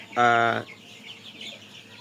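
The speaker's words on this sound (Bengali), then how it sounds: "এই মুরগিটার নাম হচ্ছে সিপিএফ থ্রি অরিজিনাল নাম কিন্তু সিপিএফ থ্রি এটাকে সবাই বলে টাইগার মুরগির নামে" CPF-3 tiger chickens raised for meat in a shed, one loud close cluck in the first half second, then quiet shed ambience with faint further clucking.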